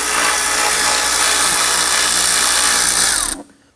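A cordless power driver with a socket spins out 8mm air intake bolts on a 2003-2014 Volvo XC90, a loud, steady close-up whir that stops abruptly just before the end.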